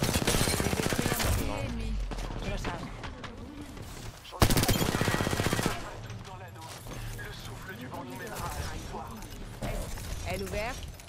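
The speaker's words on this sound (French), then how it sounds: "On me tire dessus" Rapid video game gunfire bursts, loud and dense, with a sharper volley midway, while a voice talks throughout.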